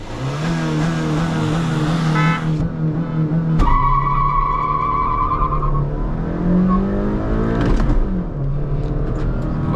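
Two cars, a Hyundai Verna 1.5L diesel and a Honda City 1.5L petrol, rev hard in a drag race, then launch together with a sharp burst and squealing tires, engines roaring loudly and climbing through the revs.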